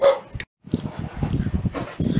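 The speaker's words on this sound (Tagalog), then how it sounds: "yung aso" A dog barks and yips in short bursts near the microphone, with a brief silent gap, then continues in a choppy series.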